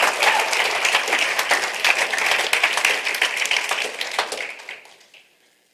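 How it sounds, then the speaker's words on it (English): Applause from a church audience fills the room steadily, a dense wash of many hands clapping that holds for several seconds and then fades out to quiet. "Let's give the Lord a round of applause for that."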